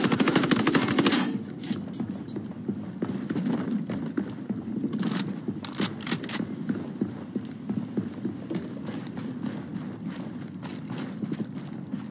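A squad opens fire together in Ghost Recon Wildlands, with a dense burst of automatic gunfire at the start, then scattered rapid shots and bursts continuing over a steady low hum of the game's surroundings.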